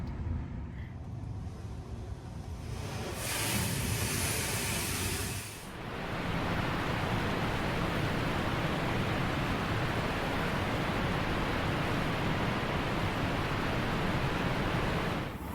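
An automatic car wash runs over a Tesla on a road trip, heard from inside as a loud, continuous rushing roar of spraying water and brushes, easing briefly midway before surging back steady to the end.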